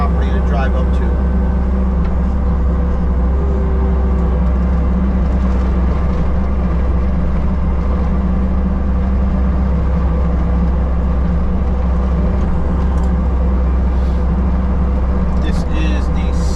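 A skid steer runs steadily while spreading a second load of topsoil to regrade a front yard, with a loud, continuous low engine drone throughout and a voice talking over it.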